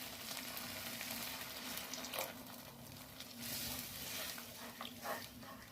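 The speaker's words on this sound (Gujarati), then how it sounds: "આપણે આમાં હવે 1 ગ્લાસ પાણી નાખીશું" A glass of water poured into a pot of mashed peas and potatoes for ragda, a soft continuous splashing pour with faint sizzling beneath, close but quiet.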